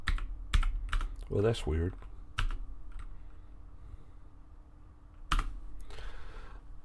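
Computer keyboard keys clatter in scattered, sharp clicks at close range, separated by quiet pauses, while someone speaks briefly.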